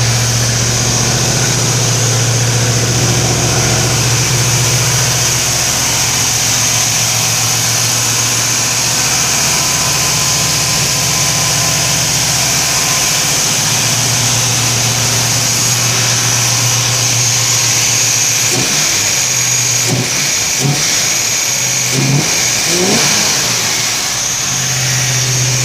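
A 1957 fuel-injected Corvette engine idles steadily and loudly up close for most of the stretch, then is revved in several short sharp bursts near the end.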